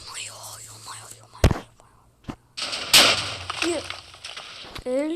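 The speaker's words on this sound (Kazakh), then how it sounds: "Керемет жарылыс болды" Explosions in Minecraft: a sharp blast, a smaller pop, then a bigger rumbling burst with debris crackle, set among quiet voice sounds and game noises.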